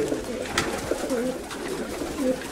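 Racing pigeons cooing after their return to the loft in Kozani, several soft throaty coos repeating close by over light background noise.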